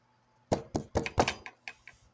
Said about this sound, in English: somebody knocked on my door